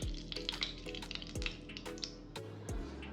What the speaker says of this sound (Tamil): எண்ணெய் சூடாயிட்டிருக்கு.